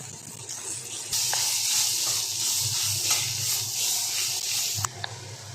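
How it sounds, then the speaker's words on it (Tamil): Onions with salt and turmeric sautéing in a pan, giving a steady close hiss of sizzling that runs almost the whole time, with a few faint scrapes and a small knock near the end. "உப்பு சேர்த்துட்டு வெங்காயத்தை நல்லா வந்து வணக்கிறோம்"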